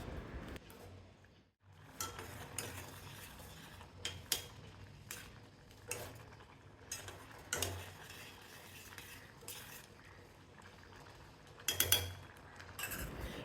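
A spoon stirs a pot of pumpkin and chana dal kootu simmering on a low flame, making soft scraping and occasional metallic clinks against the pot. The sounds come in irregular bursts, close and quiet, with no talking.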